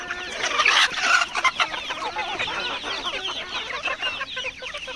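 Native village chickens and a rooster on a country poultry farm cluck and squawk in a busy, overlapping chorus, loudest near the start and then settling into steady chatter nearby.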